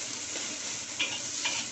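Carrot, corn and peas fry in a pan with a steady, close sizzle and hiss, broken by a couple of brief louder crackles or stirring scrapes. No one speaks.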